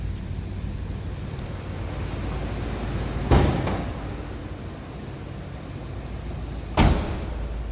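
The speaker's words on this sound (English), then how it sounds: "Door closes perfectly." A 1983 Buick Electra Park Avenue two-door's door shuts twice with solid, dull thuds several seconds apart, heard against a constant rushing wind and engine-like drone outdoors.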